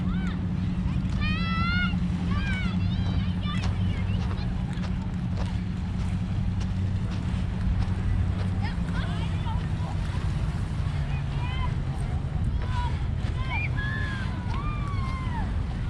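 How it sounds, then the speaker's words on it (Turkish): Constant roaring wind buffeting the microphone by the open sea on Snarøya island, Norway, with sailboats out, a low engine drone and scattered distant voices underneath. "burasının özelliği çok rüzgar olması"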